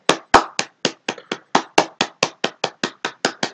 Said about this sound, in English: Just do a little bit of applaud right there.